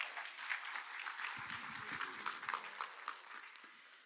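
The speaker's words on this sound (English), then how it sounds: "if we can give them all a round of applause." Clapping from an audience welcoming two Global Pluralism Award laureates, a dense, fairly faint patter of many hands heard from a distance, carrying on evenly throughout.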